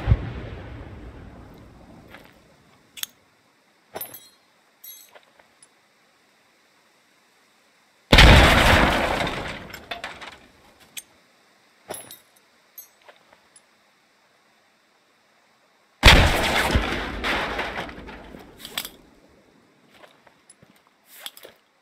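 Grenade explosions in the tactical shooter Squad: two big, loud blasts several seconds apart, each with a long rumbling tail, separated by quieter scattered pops and distant shots.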